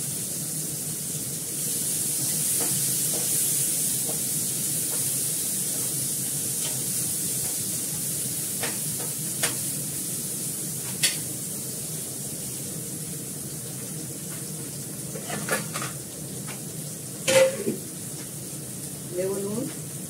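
Onions and potatoes hiss as they hit oil just used for frying fish, making a continuous broadband sizzle with scattered utensil clicks and taps growing busier toward the end.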